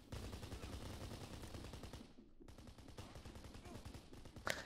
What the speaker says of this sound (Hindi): एक ही बंदा है स्नाइपर जो मार रहा है